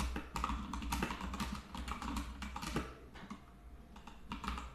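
Typing on a computer keyboard while writing a code comment in a Spring Boot database project, a steady close patter of quick key clicks in irregular bursts, with no speech.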